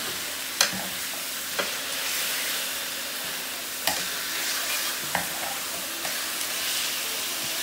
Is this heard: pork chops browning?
yes